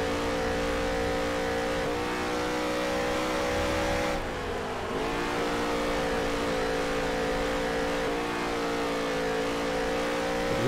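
Race cars in NASCAR Heat 3 drone and roar on the Eldora dirt track, with engines close and constantly revving. Near the middle the pitch dips briefly as the car lifts, then the engines climb again.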